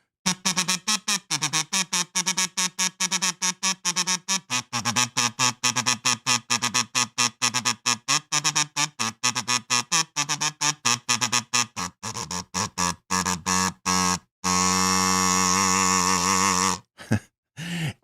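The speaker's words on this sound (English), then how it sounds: "This kazoo salute is for you." A kazoo played as a salute buzzes out a nasal, reedy tune of many short, choppy notes, loud and close, ending with a longer held buzzing note and a couple of final blips.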